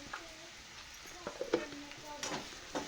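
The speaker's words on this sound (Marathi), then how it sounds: "हे पण छान परतून घेते" Vegetables being sautéed in a pan, a soft sizzle under scattered scraping and clinking strokes of a spatula, close but quiet, with faint background activity.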